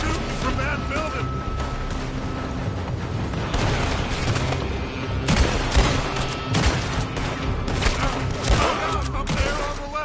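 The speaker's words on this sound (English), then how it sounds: "They're shooting from that building." Gunmen fire from a building in Red Dead Redemption 2: repeated loud rifle and pistol shots crack in irregular bursts over a steady outdoor ambience, with a voice talking under the shooting.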